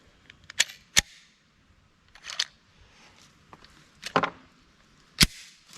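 Sharp shots from a Glock 41 pistol crack out in an irregular series of about six, some in quick pairs, fairly distant and separated by quiet gaps.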